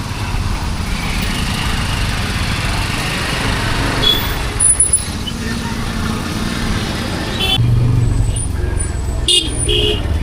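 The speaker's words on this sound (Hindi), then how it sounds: "यहाँ लगा रहता है, जाम रहता ही है यहाँ पे, रोज़ का है मेरा।" Dense road traffic in a jam during a motorcycle ride, with a continuous close rumble of engines, trucks and cars, and several horn toots cutting through near the end.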